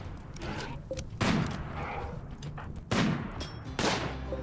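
Gunshots in the video game RimWorld aimed at a mech: several sharp, booming reports spaced about a second or more apart over a steady low rumble, fairly loud and without speech.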